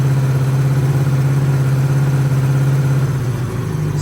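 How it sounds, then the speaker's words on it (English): A Honda Goldwing GL1200 motorcycle engine held at a steady 2000 RPM, a loud, even drone with a strong low hum that barely wavers, running alone without talk. "You do have to rev it up a little bit for it to charge."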